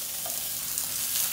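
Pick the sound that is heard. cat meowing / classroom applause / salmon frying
salmon frying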